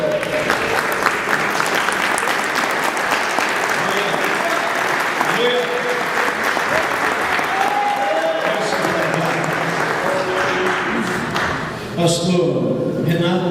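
A church congregation applauds steadily and loudly for the full length, dense clapping that thins slightly near the end, with voices and shouts mixed into the crowd noise.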